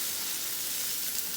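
Cube steaks sizzle in a hot frying pan as they brown, a steady close hiss of frying fat with no pauses.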